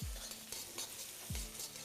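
Sliced onions fry over a high flame and are stirred, a steady close sizzle broken by two scraping stirs near the start and middle.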